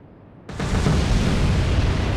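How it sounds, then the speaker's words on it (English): Torpedoes strike ships in the naval video game Atlantic Fleet, a sudden loud booming explosion erupting after a quiet moment and roaring on as a heavy sustained rumble. "Simultaneous explosions. The Grafton is sinking, and looks like the freighter is sinking as well."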